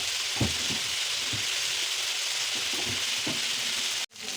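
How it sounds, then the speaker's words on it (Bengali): Potatoes and pointed gourd sizzling in hot oil in a pan, a steady loud hiss with occasional soft knocks of stirring, then a brief cut-off before the frying resumes. "আমি আলু আর পটলটাকে আগে একটু ভেজে নেব"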